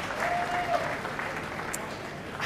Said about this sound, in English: Those claps look like masculine claps.